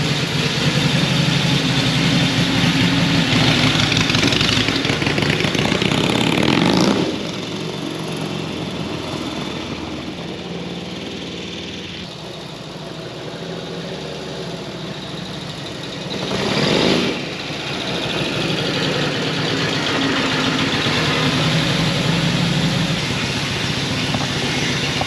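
An old, revived Indian motorbike engine runs loud and close on its first ride, a continuous rough drone that drops in level partway through, then swells briefly before settling again.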